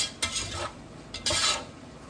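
Cauli rice and turkey mixture with lumps of cream being stirred and mashed in a pan, two scraping bursts of utensil against cookware with a soft sizzle between them, close up.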